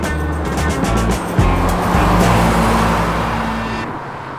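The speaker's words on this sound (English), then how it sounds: "That American muscle car, that V8 hum is absolutely," A 1967 Plymouth Barracuda V8 muscle car drives steadily, its deep engine rumble held at a constant loud level with a brief surge midway, then settling as it fades slightly at the end.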